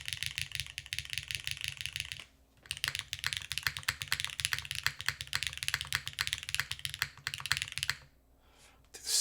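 Rapid close-up typing on a Wraith 60 mechanical keyboard fitted with Keygeek Explosion switches, a dense stream of sharp clacks with a short pause midway and a brief break near the end.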